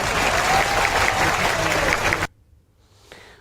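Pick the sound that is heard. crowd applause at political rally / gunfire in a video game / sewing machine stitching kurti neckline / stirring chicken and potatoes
crowd applause at political rally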